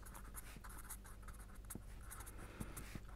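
Chalk or pen scratching out a mathematical equation on a board during a statistics lecture on hypothesis tests, a steady run of soft close strokes and taps with no talking.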